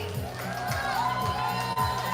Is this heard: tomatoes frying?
no